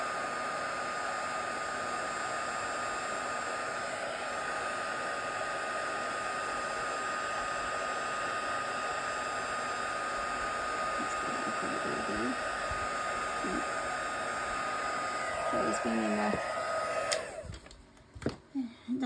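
A heat tool melting embossing powder blows a steady, loud hiss of air close by for a long stretch, cutting off near the end with a few handling clunks.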